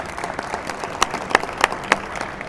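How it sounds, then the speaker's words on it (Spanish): Scattered handclaps from a conference audience applauding a panel at a tourism technology event, a few sharp separate claps standing out over a low murmur. "os pido un aplauso de nuevo para ellos"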